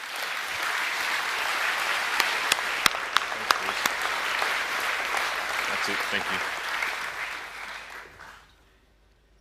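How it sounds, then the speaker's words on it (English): Audience applause at an annual academic awards presentation evening, steady dense clapping for about eight seconds with a few sharp nearby claps, then fading out; a voice speaks briefly over it. "can we give all these boys another round of applause?"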